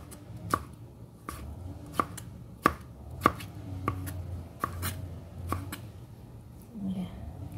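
Knife slicing turnip on a cutting board for turnip cake, a series of sharp, evenly spaced chopping knocks close by, about eight strokes with brief pauses between.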